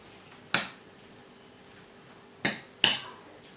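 Börek filling seasoned with black pepper is stirred in a pan, three sharp utensil knocks against the pan standing out from near silence, close and distinct.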